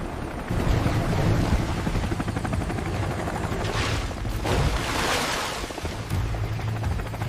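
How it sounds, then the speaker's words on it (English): A rescue helicopter hovers in position over a river during an elephant rescue: a loud, continuous rotor roar with a throbbing beat, heard alone. "Get the chopper in position."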